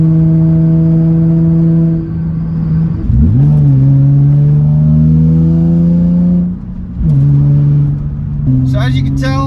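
A Nissan 350Z with an aftermarket exhaust idles loudly and close, then revs up in several smooth throttle blips to about 4,500 rpm while still cold. Each rev rises and settles back to a steady idle, and a few faint squeaks come near the end.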